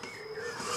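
A hand file rasps against a metal part in a workshop, a close, continuous scraping rub with no talk.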